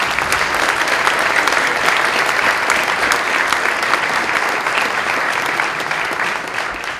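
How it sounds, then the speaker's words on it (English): An audience at a Brooklyn Borough Hall meet and greet applauds the NYPD commanding officers with loud, dense, continuous clapping that carries on evenly and tapers only slightly at the end. "Let's give them a round of applause."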